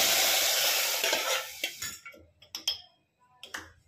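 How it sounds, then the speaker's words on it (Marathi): Mashed pav bhaji vegetables are poured into a hot, sizzling pan, a loud hiss fading over a couple of seconds, followed by several distinct scraping stirs and spoon knocks against the pan. "ही स्मॅश केलेली भाजी सगळी आपण याच्यामध्ये ओतायची आहे"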